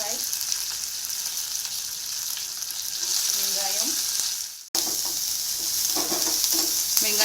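Mustard seeds, urad dal, cumin and curry leaves sizzle and crackle steadily in hot oil for a cabbage poriyal, with a brief drop to near silence midway before the spluttering resumes, close and continuous without talk.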